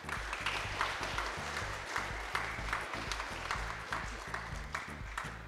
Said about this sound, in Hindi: और यहाँ उपस्थित बच्चों के माता पिता, धर्म माता पिता, उनके रिश्तेदारों के लिए एक तालियों से स्वागत करें।